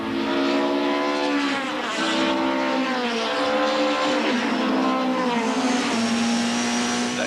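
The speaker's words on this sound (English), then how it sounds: "The two Sassel BMWs in full flight down the main straight, with Sean van der Linde chasing after Mike" BMW touring cars from the 1998 Bankfin series race flat out down the main straight at Aldo Scribante, a loud continuous engine howl with rising and falling pitch as the cars pass close by, with no talk.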